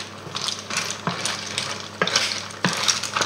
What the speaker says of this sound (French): Maintenant, il ne reste plus que nos moules à cuire.